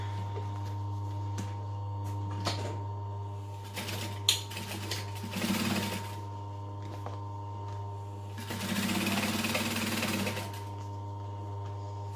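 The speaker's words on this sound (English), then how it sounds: "I'm going to crank my stitch length back up to 3 3/4, open this out, and stitch it down." Sewing machine stitching blue vinyl for a tote bag, a steady motor hum under short bursts of needle rattle that build into two longer runs of stitching, close and moderately quiet, no talk.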